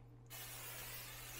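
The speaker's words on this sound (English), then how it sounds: "Running out of spray oil here, which is okay." Cooking spray oil can nearing empty releases a steady, close hiss that starts abruptly and continues evenly to the end.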